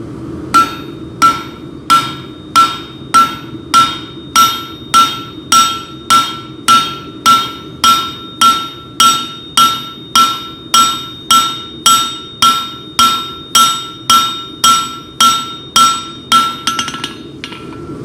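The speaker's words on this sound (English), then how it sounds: "the first step is just to hammer straight down" A blacksmith at an urban forge in Cleveland hammers hot metal straight down on an anvil, about two dozen loud, evenly spaced ringing blows in a steady rhythm, close and alone.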